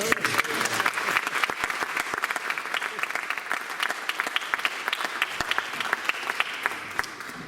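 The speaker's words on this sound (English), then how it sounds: "There's my sound man. Give him a round of applause." Concert audience applauding the sound engineer at a live folk music event, steady clapping from a crowd in a hall that carries on for several seconds, no talk over it.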